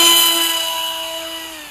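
Electric motor of a 1400 Skysurfer RC plane spinning down, a steady high whine with a falling pitch that fades gradually, close and loud with no talk.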